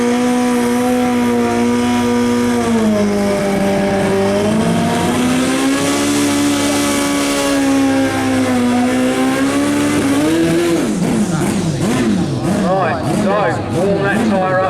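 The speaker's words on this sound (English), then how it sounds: "Warm that tyre up nicely." A race car at the Brighton Speed Trials revs hard on the start line, spinning its tyre to warm it up, a loud sustained engine whine that climbs and then wavers in rapid bursts near the end.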